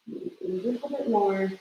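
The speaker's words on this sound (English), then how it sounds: "there's a bird outside" A pigeon or dove coos outdoors in a short soft phrase, close to moderate in level, heard beneath a person's quiet indoor speech.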